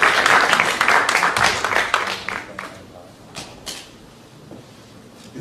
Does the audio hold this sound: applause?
yes